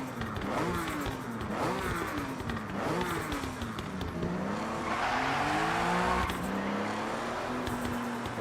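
A car engine in Forza Horizon 6 revs hard through rising and falling pitch sweeps, with tires squealing in a skid toward the middle, loud and steady with no talking.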